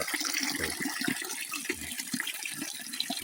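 Water trickles steadily out of a small hole low in the ground beside a river, a continuous soft splashing flow heard alone at moderate level.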